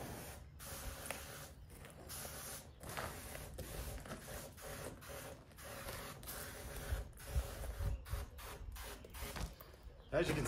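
A battery-powered backpack sprayer with a wide fan nozzle lets out a soft, steady hiss of spray, faint and continuous, with a voice talking intermittently over it.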